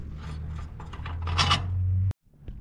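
Nuts threaded by hand onto bolts of a boat trailer post guide: close metallic rasping and scraping for about two seconds, then a sharp cutoff and faint handling sounds.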